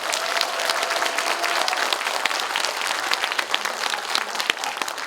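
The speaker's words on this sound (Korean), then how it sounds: "정청래 의원님 서울에서 오셨는데 큰 박수 부탁합니다." A crowd at a Korean Democratic Party political gathering in Gijang breaks into sustained, loud applause for a visiting lawmaker from Seoul, thick and even, with no voices over it.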